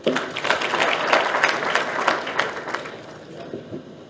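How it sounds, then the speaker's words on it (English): A burst of applause from a youth summit crowd in Kano, steady clapping that gradually thins out and fades over a few seconds. "Please, a rapturous round of applause for him."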